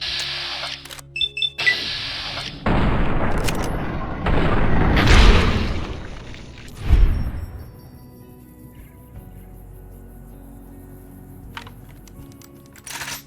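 Cowboy-era guns from a Fallout New Vegas mod firing in game: sharp loud shots with booming echoes and rumbling tails, followed by mechanical clicks of reloading and a quieter ambient stretch.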